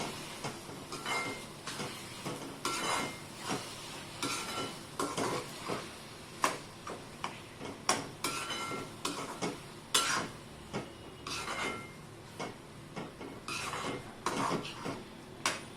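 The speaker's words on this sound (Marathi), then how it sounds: "आता तो गूळ आणि नारळाचा चव एकत्र टाकून पाच मिनटं छान मिक्स करून घेऊया" A spoon stirs a sticky jaggery and coconut mixture in a metal pan, with repeated scraping clinks and knocks against the pan in an irregular rhythm. The sound is close and fairly quiet, with no voices.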